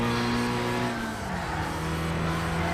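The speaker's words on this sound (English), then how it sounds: "there's a ton of tyre noise" In the Rage Racing video game on the Nurburgring GP circuit, a racing car's engine drones steadily while its tyres scrub and squeal through a corner, loud and continuous with a pitch shift midway.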